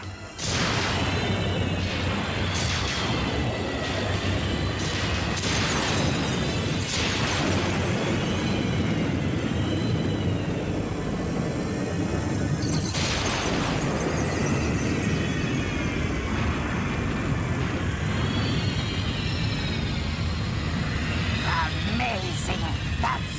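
A cartoon Dragonfire superweapon fires with loud booming blasts and roaring energy rushes, heavy and continuous, mixed with dramatic music and character voices shouting over it.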